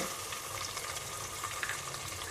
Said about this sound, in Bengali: পেঁয়াজটা ভাজা শেষ এখন আমি আদা আর রসুন বাটা দিয়ে দিব